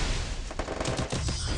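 Dense automatic gunfire fills a video game match, a rapid, loud, close burst of shots rattling continuously with only a brief break partway through.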